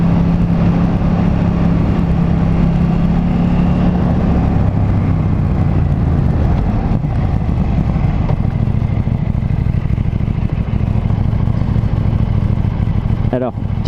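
A KTM Duke 790 motorcycle engine accelerates hard with quickshifter gear changes, a loud, close, continuous drone that steps through brief dips as it climbs, with a rider speaking over it.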